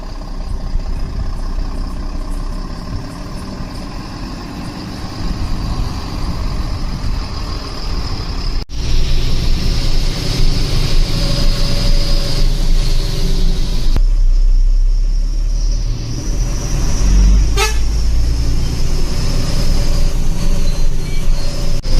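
An AC seater-cum-sleeper bus from V.A.A. Mani Travels, pulling out of parking on the Udangudi to Coimbatore route, produces a loud, continuous low engine rumble heard from inside. The rumble shifts slightly in tone as it drives, with no talking.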